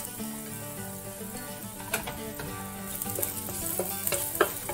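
Chopped garlic and ginger sizzle in hot oil in a wok, a continuous crackling fry broken by a few sharper spits and stirring clatters near the end.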